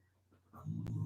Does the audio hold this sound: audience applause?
no